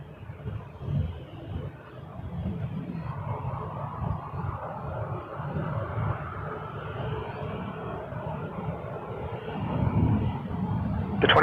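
A WestJet Boeing 737-800 at Toronto Pearson, with a steady, rumbling jet engine roar that holds fairly even and swells louder near the end.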